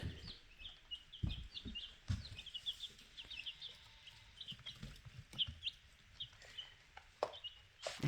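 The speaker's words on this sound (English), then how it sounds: "It's been very hard to find chicks this year." Baby chicks peeping in a shed converted to a tiny house, a busy chorus of thin, high chirps repeating throughout, fairly faint, with occasional bumps and handling thuds nearby.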